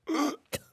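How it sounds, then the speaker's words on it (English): A person choking and coughing: a strained, rasping vocal burst followed by a short pause and one sharp, harsh cough, close and isolated. "Choking and coughing"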